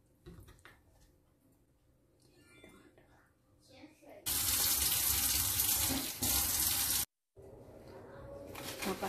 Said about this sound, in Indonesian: Ikannya aku cuci.